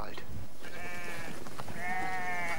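Moorschnucke moorland sheep bleat twice in the open, two loud, wavering nasal calls close by, with rustling and background noise around them.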